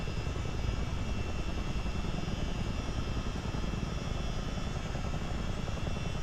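A CH-47D Chinook helicopter's engines and rotors drone in a flight simulator game, a steady dense roar that holds level throughout with no voices over it.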